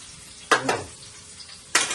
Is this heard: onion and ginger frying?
yes